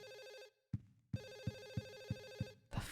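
A telephone in the Silent Hill 4 video game rings with a trilling electronic bell. The bursts come in an even pulsing rhythm, broken by short gaps and thudding knocks, and end in a loud noisy burst.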